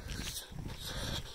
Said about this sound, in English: Oh, got a dog.